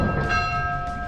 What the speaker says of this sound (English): See if I can ring this bell.